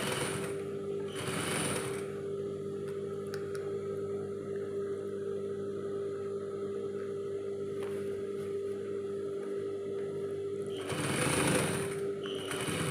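A sewing machine stitching a curved rolled hem on sarong fabric runs as a steady, close, continuous mechanical hum, with louder bursts of faster stitching at the start and end.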